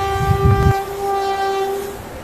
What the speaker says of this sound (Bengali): হু শব্দ করে ট্রেনটা চলে গেল।